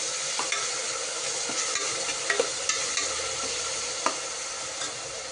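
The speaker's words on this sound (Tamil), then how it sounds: "இப்போ இந்த வெங்காயம் தக்காளி நல்லா வணங்கட்டும்" Onions and tomatoes sauté in an oiled pan with a steady, close sizzle, and a spatula scrapes and clicks against the metal now and then.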